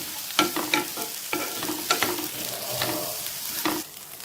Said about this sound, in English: dry roast this also for about 2 minutes until the curry leaves have become dry and turn a bit brown